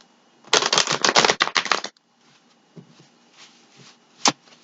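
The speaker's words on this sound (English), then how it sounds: "Just listen to the sound of the cards." A rapid riffle of tarot cards being shuffled, loud and close for about a second and a half, followed by softer taps and one sharp click.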